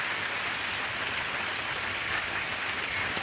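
Heavy rain falling on a farm with cows and buffaloes, a dense, even, loud hiss of rain that stays constant throughout, with no talking.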